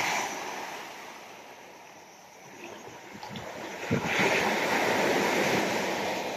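Strong waves surge onto a rocky shore where shells cling, a steady roar of surf building to a louder crash near the middle and staying heavy, with wind buffeting the microphone and no talk.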